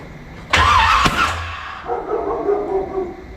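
A 1981 Corvette with a renewed engine cranks over loudly with a sharp clunk, then settles into a low, uneven rumble as it catches or sputters; a dog barks faintly and a voice murmurs in the background.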